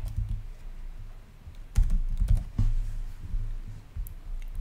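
A computer keyboard typed on in short bursts of close, crisp key clicks while a function name is entered, with brief pauses between bursts and no speech.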